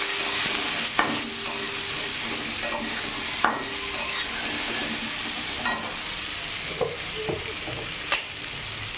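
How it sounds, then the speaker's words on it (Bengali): Lightly parboiled potatoes with turmeric and salt fry in a pan, giving a continuous close sizzle broken by several soft stirring knocks and scrapes. "হালকা করে আলুটা ভেজে নেব"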